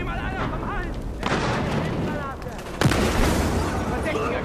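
Grenade and gunfire blasts in Battlefield Hardline during a night bank heist, a series of loud booms and bursts with a sharp explosion near the end, mixed with in-game voices shouting.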